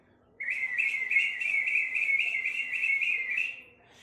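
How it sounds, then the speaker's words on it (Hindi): On a quiet morning, a bird gives one sustained, trilling whistle lasting about three seconds. The call is clear and moderately close against a still background, with no talking. "आज सुबह जब मैं उठा तो मुझे चिड़िया की काफी मधुर आवाजें सुनाई दी।"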